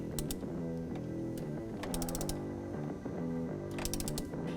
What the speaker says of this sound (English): you can go ahead and torque down the hose clamp to 75 inch-pounds